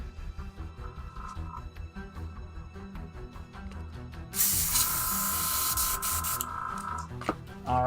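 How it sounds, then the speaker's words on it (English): An airbrush sprays in one steady hissing burst of a few seconds while it is cleaned out between paint colours for miniature painting, close and loud after quieter clicks and handling. "Just gonna clean out my airbrush here, and then I'll switch to the next color."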